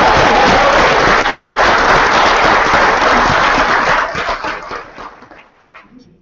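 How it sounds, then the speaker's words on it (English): A dense, loud burst of audience applause at a boot camp training event, cutting off briefly and then swelling again before fading gradually to quiet. "Give her a round of applause."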